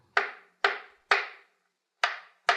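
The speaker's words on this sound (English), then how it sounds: "I must get busy with my chisel and turn this piece of wood into the leg of a table." Five sharp wooden knocks of a hammer driving a chisel into a piece of wood for a table leg, evenly spaced about half a second apart with a pause before the last two, close and alone in a woodcarver's workshop.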